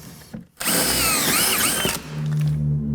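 A power drill fitted with a regular drill bit bores through a wood subfloor: a short pause, then a loud, close, high whine for over a second that stops abruptly, followed by a lower hum.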